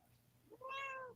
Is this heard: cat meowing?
yes